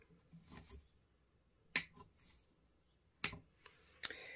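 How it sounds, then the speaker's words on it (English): Wire cutters snip the ends of floral wire on an Easter wreath, giving three or four sharp, close clicks that are spaced apart and surrounded by quiet handling sounds. "go ahead and grab your wire cutters. Cut those bits off"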